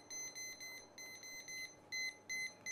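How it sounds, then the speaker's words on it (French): A kitchen timer beeps in a cooking class while veal chops are being cooked, sounding in short, bright electronic bursts of repeated beeps, evenly spaced in quick groups, clear and moderately loud with no talking. "je vais même mettre mon minuteur à nouveau"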